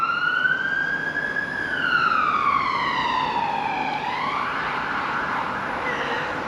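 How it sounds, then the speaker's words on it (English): An emergency vehicle siren passes near a garden by a train station and highway, wailing tones rising and falling as it goes by, with a Doppler drop in pitch over steady traffic hum. "Someone needs the emergency ambulance, police, whoever that was."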